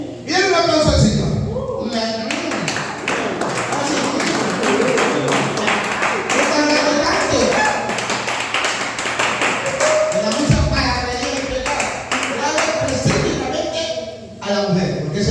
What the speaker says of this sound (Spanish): Viene un aplauso al Señor.